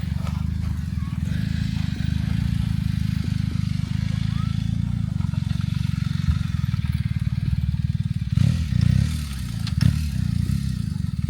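A motorcycle rides around a ranch event, its engine droning and revving steadily at mid distance, with clattering and scraping and a few louder bursts near the end.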